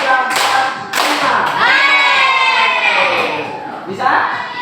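Children in a classroom clap along to a counted chant. A few sharp, spaced claps land between loud voices chanting in unison.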